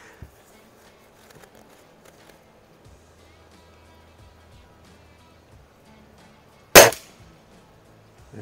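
A Beeman RS2 dual-caliber air rifle fires at a splatter target: one sharp, loud shot stands out against quiet background with faint handling noises.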